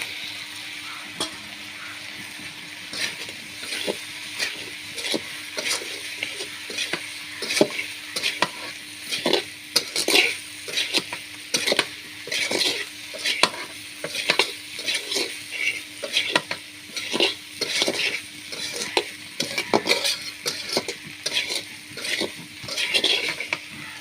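Fried soybean chunks go into a pan of potatoes and are stirred and fried, with a bright sizzle broken by a quick, rhythmic run of spatula scrapes and knocks against the pan, close up and loud.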